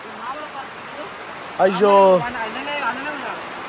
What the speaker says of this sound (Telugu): ఘోరాది ఘోరంగా కొడుతుంది వర్షం అయితే అసలు